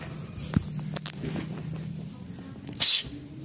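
One sudden sharp sneeze close by, standing out near the end of a quiet indoor stretch with a few soft movement sounds before it.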